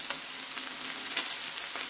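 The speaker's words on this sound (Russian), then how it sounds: "Так, мяско наше жарится." Beef for stroganoff fries in a pan, a close, dense and continuous sizzle with occasional louder crackles and stirring scrapes, no talking.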